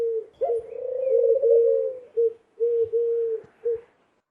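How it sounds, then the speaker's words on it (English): Doves coo close by in a series of low, soft, hooting calls, one long drawn-out note followed by several shorter ones with brief pauses, clear and alone. "My doves call."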